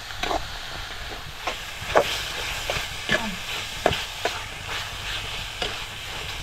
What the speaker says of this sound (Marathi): वाटण आपल्याला चांगलं असं फ्राय करून घ्यायचंय